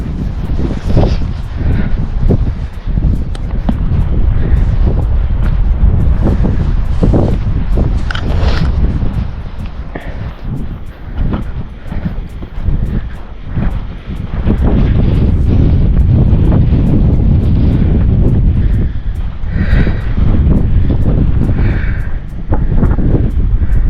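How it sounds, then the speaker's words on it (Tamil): Strong wind buffets the microphone in heavy gusts at Mwnt beach in Wales, with a low roar of surf beneath and no voices. "இன்னைக்கு கொஞ்சம் காற்று ரொம்ப கொஞ்சம் கம்மியாக இருக்குது."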